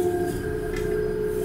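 An S-Bahn commuter train hums steadily with a sustained tonal whine from its motors and a low rolling rumble, heard from inside the car without talk.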